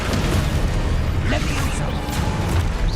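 Spell effects from a Wizarding World video game: a shield charm, a fiery blast curse and a slamming curse cast in quick succession, a dense continuous rumble with bursts and crackles, loud and close.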